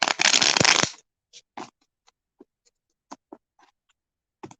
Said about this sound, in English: Let me shuffle real good.